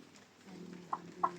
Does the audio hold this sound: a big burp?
no